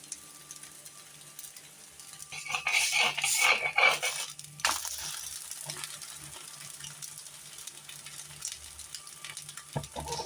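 An oats and apple pancake sizzles in oil in a pan, a soft steady fry that swells into a louder crackling burst midway, then settles back to a quiet sizzle.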